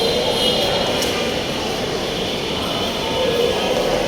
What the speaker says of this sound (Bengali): কিছুক্ষণ পরেই মেট্রো রেল চলে আসবে